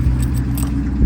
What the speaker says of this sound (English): Let's see, I got the key here.